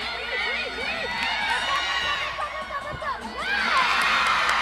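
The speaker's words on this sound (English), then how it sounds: "she gets a clap from the Hawaii Pacific bench as well" Gymnastics-style acrobatics and tumbling meet crowd cheering and whooping after a tumbling pass, with excited shouts and scattered claps from a team bench under a lively, reverberant arena din.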